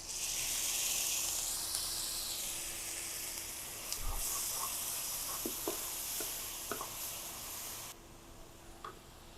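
Water hits frying onions with ground turmeric and chili in a pan as it cooks for a jute-leaf saag, giving a loud, steady hiss and sizzle with a few stirring clicks that drops abruptly quieter near the end.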